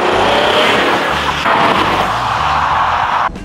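An Audi diesel car in dynamic mode accelerates hard with a loud, close, roaring engine that climbs through a few gear changes before cutting off abruptly near the end.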